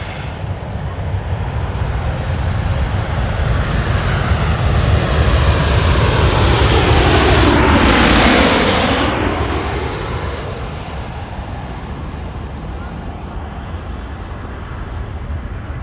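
An Aeromexico airliner takes off at Los Angeles International Airport, its engine roar swelling into a loud, broad jet rush that peaks mid-way, then eases into a steady, fading rumble as it climbs away.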